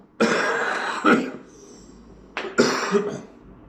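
Two bursts of harsh, raspy coughing close to the mic, each a short cluster of coughs with a pause between, no talking.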